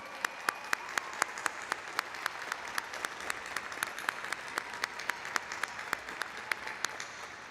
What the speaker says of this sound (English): Please join me in giving a huge round of applause in honor of their service.